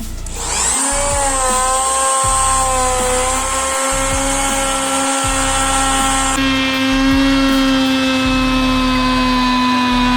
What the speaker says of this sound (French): j'ai utilisé l'outil magique, une défonceuse, qui permet de faire un joli décroché sur le bord du plateau